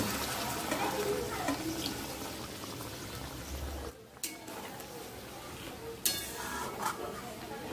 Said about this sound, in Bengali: তো আমি এটা এবার মশলাটার মধ্যে জলটা দিয়ে দেবো।